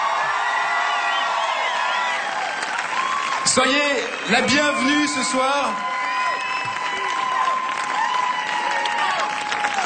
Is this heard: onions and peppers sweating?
no